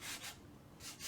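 Light hand sanding of a painted wood project, heard as soft, close rubbing strokes: two quick passes, a pause, then another stroke, faint and alone.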